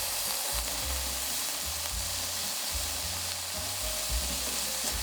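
Pork with a seafood mix of shrimp, squid and shellfish fries on a griddle for monjayaki, giving a constant close hiss and sizzle over low, irregular thumps, with no talking.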